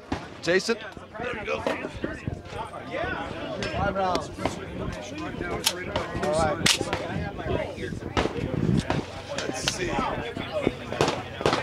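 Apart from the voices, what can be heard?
suppressed gun firing at a shooting range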